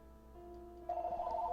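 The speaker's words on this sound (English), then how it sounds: "Phone, why are you ringing?" A phone rings with a steady electronic trill, jumping louder partway through and carrying on alone with no talk over it.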